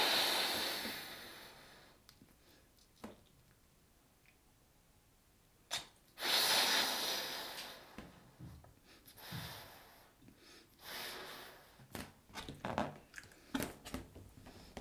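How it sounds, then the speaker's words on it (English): Guided breathing exercise with soft inhales and strong, forceful exhales, heard as close, breathy bursts of air repeating irregularly in a quiet room, with no talking. "Again, soft inhale. Nice strong exhale out."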